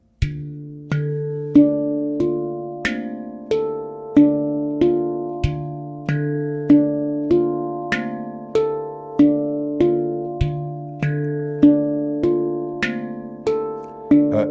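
A handpan plays a repeating rhythmic pattern of ringing, bell-like strikes. Deep bass tones alternate with brighter notes at a steady, moderate pace.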